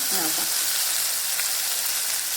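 Spice masala frying in a pan, a dense, even sizzle heard close and loud throughout, with a brief faint voice at the start.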